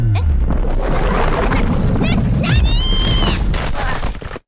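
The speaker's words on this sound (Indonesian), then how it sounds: "Orang-orang berpikir Mena gagal merapalkan mantra sehingga terjadi ledakan" A magical explosion in an anime fantasy battle erupts in a loud, sustained booming blast with crackling debris and whooshing effects, filling the scene before cutting off abruptly.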